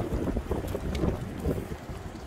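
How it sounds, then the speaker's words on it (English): Strong wind of about 26 mph, gusting higher, buffets the microphone in rough, gusting bursts, a loud continuous roar with no voices. "Checking it out in 26 mile an hour winds."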